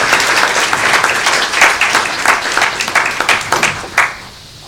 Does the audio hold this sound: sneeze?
no